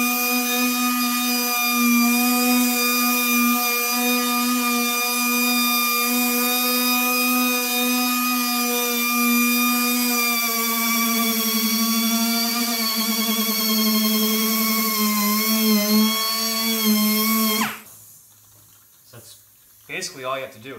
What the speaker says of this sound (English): it's a machine sand instead of hand sand